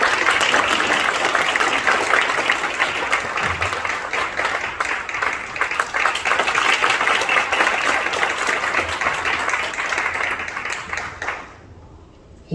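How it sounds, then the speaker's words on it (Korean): An indoor audience applauds steadily as a former prime minister is welcomed onto a stage, with dense, loud clapping sustained for about eleven seconds before cutting off abruptly into near silence. "큰 박수 부탁드립니다."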